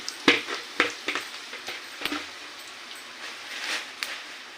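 Cumin, mustard seeds and two dried red chillies hit hot oil in a pan, making a run of sharp crackles and pops that settle into a soft, quiet sizzle.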